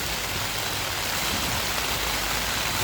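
Heavy rain pours down in a dense, even hiss with no breaks, steady and fairly loud throughout, on a slippery uphill road.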